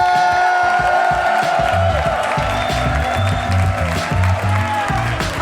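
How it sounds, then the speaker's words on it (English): A live comedy podcast crowd applauds, cheers and whoops loudly as the host is brought onstage, a dense roar of clapping and shouting with music and a voice underneath. "Lord knows he needs to hear you give him some claps when he gets out here."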